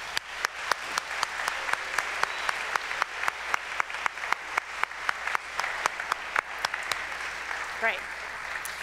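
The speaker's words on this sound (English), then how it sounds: "let's give them a round of applause" An audience at a Springdale High School spring choir concert claps, with sharp, evenly spaced claps standing out close by over softer background clapping and a brief voice near the end.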